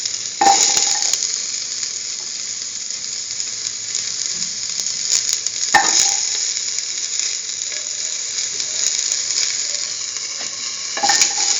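Shallots sizzling in a pan for a curried tomato, beetroot and coconut stew, a bright steady hiss with three louder bursts of stirring clatter spaced through the stretch, no talk.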